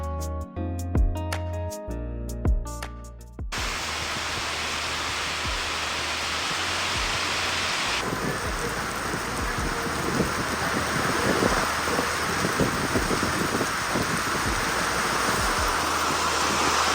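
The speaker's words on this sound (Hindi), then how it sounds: "क्योंकि बारिश थमने का नाम नहीं ले रही थी।" Heavy rain pours outdoors on a highway in a dense, unbroken roar, growing louder and more intense partway through, with no voices.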